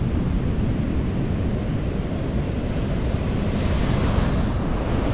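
Heavy ocean surf pounds a beach in Bucerias, Mexico, during a hurricane, a loud, continuous roar of breaking waves mixed with strong wind buffeting the microphone, steady throughout with no voices.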